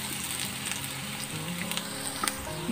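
Garlic sizzles in hot olive oil in a pan, a steady soft frying crackle with scattered pops, fairly quiet and close, with no talking.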